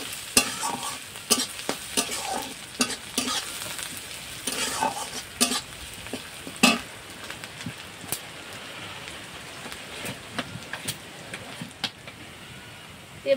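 Chopped onions sizzle in a pan while a spoon stirs them now and then, a steady crackling fry with scraping knocks scattered through it, close and fairly quiet.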